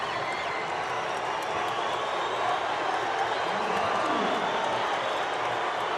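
A stadium crowd at an international athletics meeting in Rabat, Morocco, makes a broad, sustained roar with a low rising murmur, steady throughout, while a commentator talks over it.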